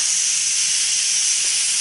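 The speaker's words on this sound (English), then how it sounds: "use the quick release method, which will very quickly release all of the steam inside the pressure cooker" Steam hisses steadily and loudly from a pressure cooker's quick-release valve while chickpeas cook, a continuous bright rush with no pauses and no voices.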